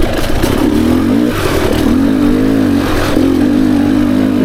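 A 2024 Beta 300 RR Race Edition two-stroke dirt bike on a single-track trail, its engine loud and close, revving and wavering in pitch on the throttle with some clattering underneath.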